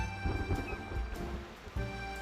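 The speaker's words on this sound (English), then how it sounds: "Rain starts to pour. The wind picks up" Heavy rain pours steadily in a storm-like setting on a river where a sailing ship travels, with a dense rushing wash that swells and drops in waves. No one speaks.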